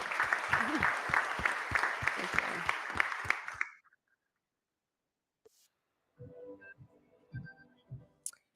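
An audience at a pitch competition final applauds with dense, even clapping for about four seconds, then it stops abruptly, followed by silence and a few faint scattered sounds.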